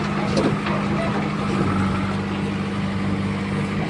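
A tractor engine rumbles low and steady nearby at a constant idle while the tractor is being loaded, with people talking over the hum.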